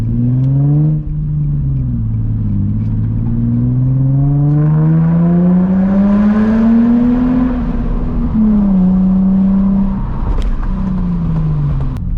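A Nissan 350Z accelerating through a tunnel, its engine droning and rising in pitch through several gear pulls with brief dips at the shifts, loud, close and echoing, with no talk.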